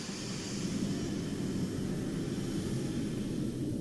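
F/A-18 Super Hornet jet engine at full throttle in Arma 3, a steady, continuous low roar with a hissing top, even in level and unbroken throughout.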